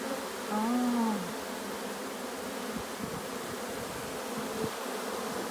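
Honeybees fanning at the hive give a steady, dense buzzing drone that fills the whole stretch, with a voice speaking briefly near the start.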